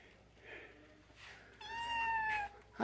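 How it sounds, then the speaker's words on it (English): A little black kitten at an animal shelter gives a few soft meows, ending in one longer, clear cry, with faint background noise and a quiet voice nearby. "Who wants a little black cat?"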